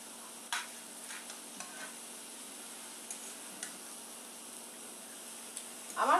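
Dheki fern greens with fried peanuts being stirred in a pan, with faint sizzling throughout and a few sharp spatula scrapes and taps against the metal.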